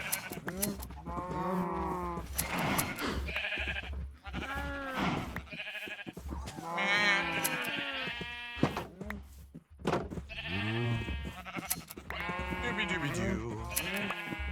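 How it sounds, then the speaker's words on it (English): Sheep bleat repeatedly in Minecraft, the PC video game, while the player shears them. The calls come as a series of loud, close, wavering game bleats spread across the scene, with no talk over them. "I should shear the sheep while I'm here."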